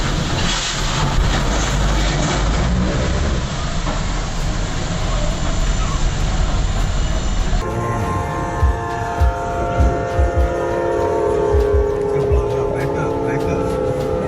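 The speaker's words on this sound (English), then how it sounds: "an approaching train left a stranded truck with nowhere to go" An approaching train at a level crossing in Spain, where a truck is stranded on the tracks: a loud, continuous rail rumble with clattering wheels, building through the clip beneath a voice.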